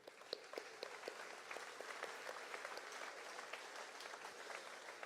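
Outdoor crowd at the Fancy Farm political picnic in Kentucky applauding, a faint, moderately dense patter of many hands with sharper individual claps, steady for about five seconds.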